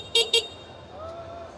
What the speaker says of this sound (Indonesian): Kayak suara klakson skutik